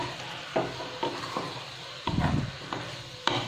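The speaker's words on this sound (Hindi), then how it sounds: "और इसके साथ में इसमें हम डालेंगे टमाटर, उसे भी हम मिक्स करेंगे।" Tomatoes being stirred into a sesame French beans sabji, with soft scraping strokes of a spoon in the pan at an irregular pace and a light sizzle underneath, close and quiet.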